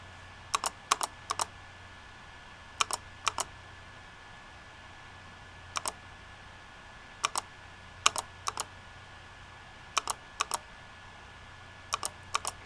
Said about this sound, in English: So he's typing Tilvus.